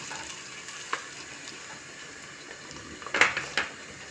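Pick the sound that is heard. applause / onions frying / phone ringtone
onions frying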